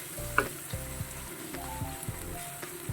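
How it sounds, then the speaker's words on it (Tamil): Onions frying in a pan for a pepper chicken dish, with fennel seeds added, give a steady quiet sizzle broken by several soft scraping stirs at a regular pace; no voices. "நல்ல வெங்காயத்தை வந்து நம்ம ஃப்ரை பண்ணி எடுத்துட்டோம்னா சூப்பராக இருக்கும்"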